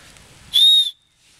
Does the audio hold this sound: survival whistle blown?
yes